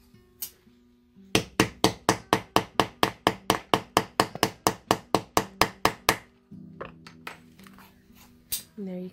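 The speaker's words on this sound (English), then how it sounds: "I'm going to start hammering it" A metal rivet being hammered into thin leather for a handmade leather bag: a rapid, steady run of about twenty loud, sharp strikes close by, then a pause and a few scattered softer knocks and handling sounds.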